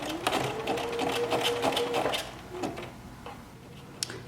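A sewing machine runs a wide zigzag stitch along a knit fabric hem, a close, rapid mechanical chatter for about two seconds that slows and fades into a few scattered clicks.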